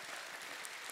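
A church congregation claps in a dense, steady wash of applause that carries faint shouting of praise, sustained for the whole second at fairly low level.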